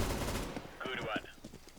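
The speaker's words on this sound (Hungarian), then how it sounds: "Ez a legutálatosabb fegyver, ez a revolver." A revolver fires in a Counter-Strike: Global Offensive Arms Race match, producing a short burst of sharp game gunshots followed by quieter in-game sounds, with no one talking.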